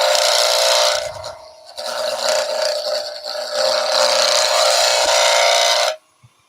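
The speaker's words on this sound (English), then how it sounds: "Let's just scrape that side" A tool scrapes a wooden magic wand as it spins on a lathe, giving a close, continuous rasping hiss that dips briefly near the start and then runs steadily until it stops abruptly.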